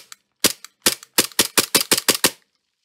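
A G34 gel blaster toy gun fires about ten sharp, close shots in quick succession, each a crisp snapping pop with brief silence between.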